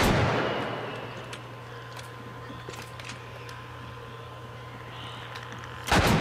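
A gun fires in The Last of Us, one sharp loud shot at the start that rings and decays, a steady game hum beneath, then a second sharp blast at the very end.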